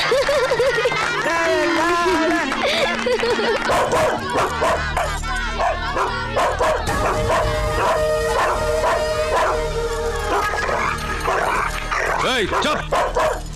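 A pet dog barks and yips repeatedly in a lively household scene from a Hindi romantic film, the sharp barks mixing with a man's speech and background music.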